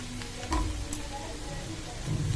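Chopped tomatoes go into a hot pan with chilli for a Bengali bhindi aloo curry, setting off a steady close sizzle and frying hiss with a few soft stirring scrapes and a brief clatter near the end.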